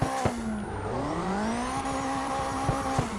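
Video game car drifting in CarX Drift Racing, a high engine whine rising and falling through gear changes with sustained tire squeal and a few sharp transient bursts, loud and close.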